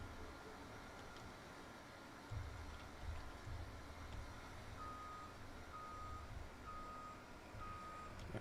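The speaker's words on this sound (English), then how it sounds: "That bloody reverse beep." A truck's reversing alarm in the Yukon River Valley sounds a string of regular, evenly spaced beeps over a low engine rumble, moderately distant and fairly faint.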